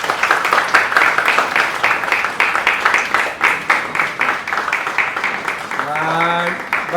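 A crowd gathered at an on-location television drama shoot claps together in a steady burst of applause lasting several seconds, fairly close and loud, with a voice rising over the end.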